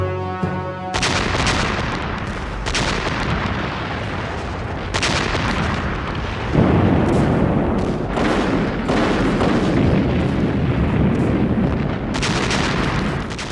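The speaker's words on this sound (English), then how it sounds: "after Hitler's invasion of the Soviet Union, the guns of the Red Army began a ferocious bombardment of German forces in what today is Belarus." Red Army artillery bombardment of German forces in World War II rumbles on as a dense, loud, continuous barrage with repeated heavy booms and blasts layered over one another.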